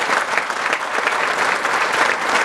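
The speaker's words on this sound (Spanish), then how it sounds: "Fuertes aplausos" Loud, dense applause from a crowd at a political event in Guerrero, steady and continuous clapping close by.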